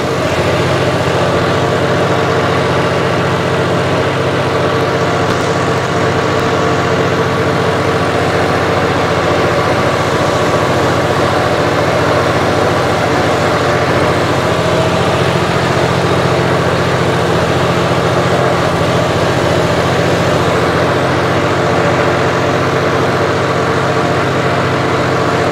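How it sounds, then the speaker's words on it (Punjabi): A modified John Deere 5405 4x4 tractor with an uprated turbo diesel engine and pump runs steadily at a low, even idle, a continuous heavy rumble with no voices over it. "ਸਿਰਫ 4x4 ਕਰਕੇ ਟਰੈਕਟਰ ਚੱਲਣ ਡਿਆ"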